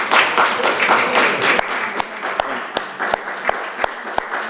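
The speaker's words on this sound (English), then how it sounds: "Please give him a round of applause" A live radio podcast audience applauds a welcomed guest, a crowd's steady clapping joined by sharp, evenly spaced single claps standing out near the microphone.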